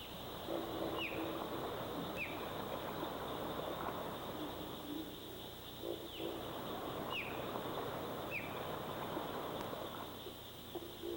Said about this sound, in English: The most common sounds heard when an osprey is around are a repeated chirp or a longer call.